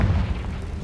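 A Confringo fire-spell explosion in the Hogwarts Legacy video game lands as one deep, booming blast, loud and close, with a low rumble that carries through the short moment without any voice over it.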